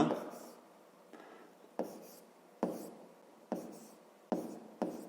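Marker or chalk writing on a board during a fifth-grade math lesson, a series of short scratchy strokes in uneven bursts, close by, with someone speaking in between.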